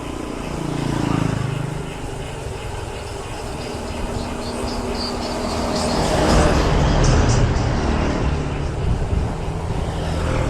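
A motorbike climbs the mountain road from Ende to Moni on Flores, its engine a steady, close drone with wind rush that swells louder midway and stays strong to the end.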